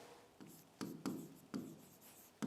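Chalk or marker writing on a classroom board during a Hindi grammar lesson, a series of short scraping strokes in bursts, close and fairly soft, with no talking.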